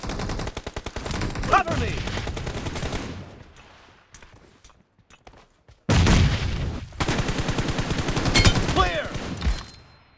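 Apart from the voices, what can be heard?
AKM rifle gunfire in a video game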